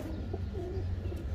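Pigeons cooing indoors, with a few soft, low rolling coos that are faint and close against a quiet background hum.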